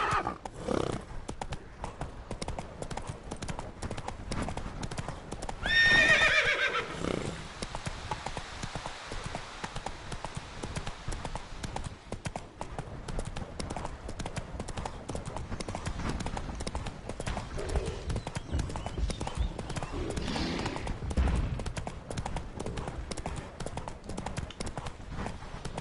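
Roach, the horse in The Witcher 3, clip-clops along at a steady walking pace for a long stretch, with a whinny near the start and the hooves close and even throughout.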